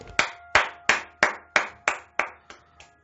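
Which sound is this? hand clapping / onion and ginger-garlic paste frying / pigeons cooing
hand clapping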